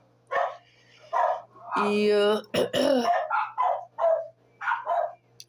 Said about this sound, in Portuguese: esse cachorro do vizinho, gente. Ai, senhor. Isso é hora de latir.